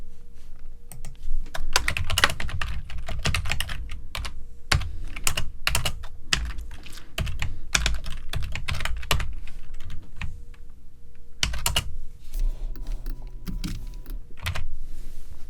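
Rapid typing on a computer keyboard, close and clear, with steady bursts of key clicks, brief pauses and occasional louder keystrokes throughout.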